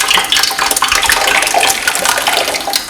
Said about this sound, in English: This pot, I'm gonna pour in the stew.